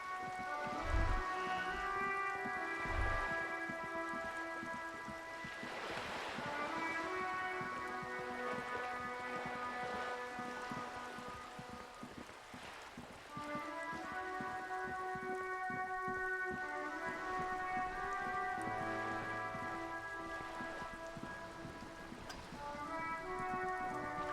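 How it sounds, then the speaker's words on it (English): Rain in the video game Disco Elysium falls steadily on wooden boards and the water around them as a soft, constant hiss, with sustained tonal music notes layered over it and no speech. "All around you, rain keeps falling down."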